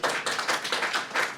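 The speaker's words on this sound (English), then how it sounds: "Cue applause." Audience applause at the official launch of the Allianz Hurling Leagues in Croke Park, a short, dense burst of many hands clapping at fairly close range, with no talk over it.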